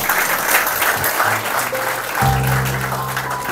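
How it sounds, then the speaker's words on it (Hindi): Loud, sustained applause from a crowd fills the whole stretch, a dense continuous patter of clapping hands. "आप अपने लिए जोरदार तालियां बजा दीजिए।"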